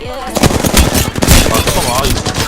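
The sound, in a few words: gunfire in a video game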